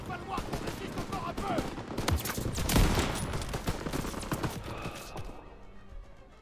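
Dense gunfire from a World War II battle in the Ardennes in Call of Duty WW2: rapid rifle and machine-gun bursts crackle continuously, with a heavier cluster of shots near the middle, loud and close throughout.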